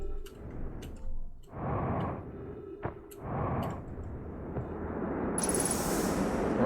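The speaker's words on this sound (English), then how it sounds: "Reactor explosion noises" Reactor explosion rumbles in the video game Outer Wilds: deep booming bursts with faint ticking between them, then a swelling roar with a high electronic whine as the clip ends.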